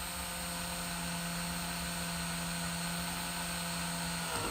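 A steady high-pitched grinding whine of a drill boring through a Lexan rear window on a Honda Civic, running continuously and close by before cutting off at the end.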